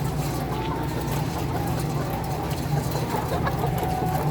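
Many chickens cluck and murmur together in a crowded poultry farm house, making a dense, continuous chorus with a low mechanical hum underneath.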